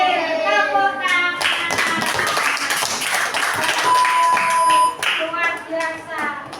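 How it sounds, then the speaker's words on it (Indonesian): Children in a classroom clap their hands in a dense burst of applause lasting a few seconds, loud and close, with voices mixed in and fading to chatter at the end. "Tepuk tangan."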